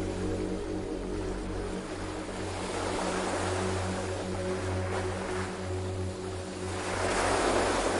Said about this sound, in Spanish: Visualiza cómo las olas se acercan lentamente a la orilla.